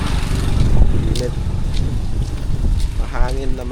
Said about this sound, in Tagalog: Mahangin na mainit guys.